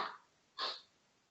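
A single faint, short sneeze in a lecture room, preceded by a soft breathy intake and followed by a quiet room.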